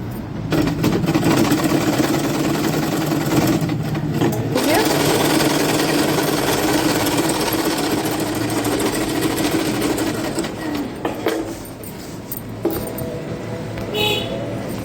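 A sewing machine stitches underwear fabric in a steady, close whirring run that pauses briefly near four seconds and again near the end, with light handling clatter.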